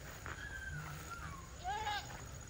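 A Boer goat bleats during light rain, a thin wavering call and then a louder second bleat, heard close over steady rain patter and low background noise.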